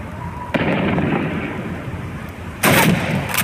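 Two loud, booming shots from Call of Duty 2 (2005, PC), fired at teddy bear targets during a Red Army training mission. The shots are spaced about two seconds apart, each trailing off in a heavy reverberant rumble.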